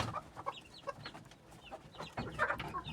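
Backyard hens kept for egg laying and fed on home food cluck in short, scattered bursts, fairly close and moderately loud, with no talking.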